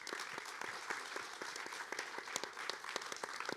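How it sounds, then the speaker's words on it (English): An audience at a post-screening Q&A for a documentary gives a round of applause, a fairly faint, even patter of many hands clapping continuously, heard from some distance with no talk. "maybe we can give ourselves a round of applause for that"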